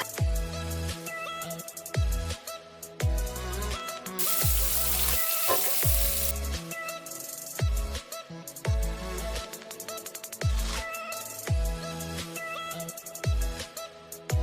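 Meat sizzling and frying in a hot pan for meatballs, a loud continuous crackle with bursts of louder spattering, punctuated by repeated soft thumps and clinks of stirring.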